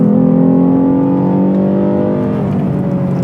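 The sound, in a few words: Lexus naturally aspirated V6 engine revving with Takeda cold air intake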